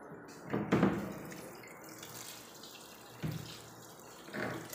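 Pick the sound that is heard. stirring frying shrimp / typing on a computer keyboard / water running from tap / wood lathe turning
water running from tap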